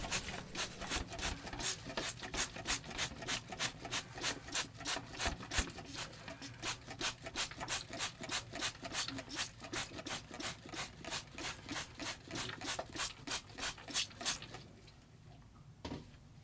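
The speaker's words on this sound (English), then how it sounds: "here's me attempting to dry up the whole area with a dry cloth and wipe all of the surfaces clean" Steady, rhythmic rubbing strokes of a dry cloth wiping and drying surfaces in the engine room of a boat under renovation, close and continuous for most of the clip before dropping off near the end.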